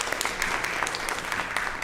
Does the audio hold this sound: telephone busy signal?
no